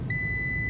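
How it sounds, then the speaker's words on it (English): A steady, continuous electronic beep from a multimeter in continuity mode, sounding as the probes bridge a good fuse, clear and close with no talk. "if it's good, it should beep"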